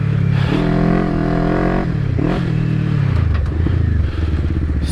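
Kawasaki KLE500 motorcycle engine rumbling loud and close with shifting harmonic tones, easing off and picking up as it rolls downhill into corners, with wind and road clatter throughout.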